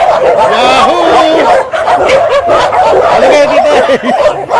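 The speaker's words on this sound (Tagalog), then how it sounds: "Tropa ng mga aso." A pack of dogs at an animal shelter barks, yips and whimpers continuously and loudly up close, overlapping one another while people talk excitedly among them.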